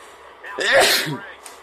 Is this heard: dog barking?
no